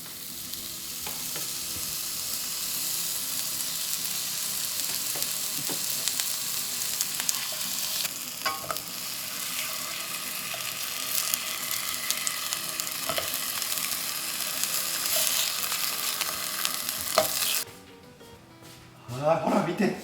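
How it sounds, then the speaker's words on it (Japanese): Onions fry in a pan with a bright, steady sizzle for most of the clip, punctuated by occasional clinks and stirring, before the sizzling cuts out near the end and someone speaks briefly. "じゃあ玉ねぎを焼いていきましょうか。"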